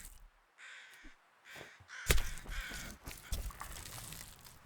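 Carrion crows in The Long Dark video game give a few harsh caws at first, then keep calling beneath a louder burst of rushing, splashing noise in the second half.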